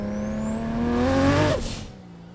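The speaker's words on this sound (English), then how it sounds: "if you just isolated the turbo noise, it's louder than so many other cars I've driven" A 930 WHP JDM Toyota Supra with a turbo engine revs up loud and close, its tone climbing with a high turbo whine before dropping off abruptly into a fading whir.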